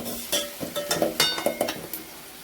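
Finely chopped onion sautéing in oil with cumin and mustard seeds, heard as a light sizzle under a quick run of utensil scrapes and clinks against the pan, close and with no voices.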